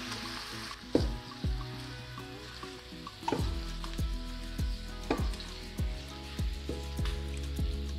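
Noodles, chicken and vegetables sizzle steadily in a pan while being stirred and tossed, with repeated clanks of a utensil against the pan over the frying.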